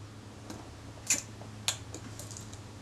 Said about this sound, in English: See what happens if we cock it.